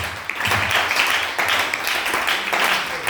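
A church congregation claps in loud bursts that rise and fall in waves, with voices and cheering mixed into the applause.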